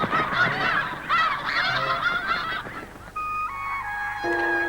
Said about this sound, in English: The great flocks of snow geese stay around at Sand Lake until winter creeps down from the Canadian prairies.